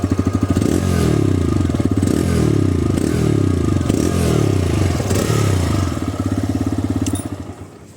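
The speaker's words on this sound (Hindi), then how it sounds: "और अब मैं थोड़ा सा रेफ करके सुना देता हूँ।" A TVS Raider 125 motorcycle engine revs loudly and close by, its throttle blipped in a run of repeated rising surges over a steady low idle thrum, then settling as the revs drop away at the end.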